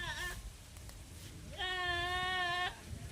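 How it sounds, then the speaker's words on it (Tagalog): Goats bleating at a farm beside fish ponds and rice fields during a tilapia harvest: a short wavering bleat, then after a pause a longer, loud sustained bleat close by over faint outdoor background. "Oh, daming kambing dito."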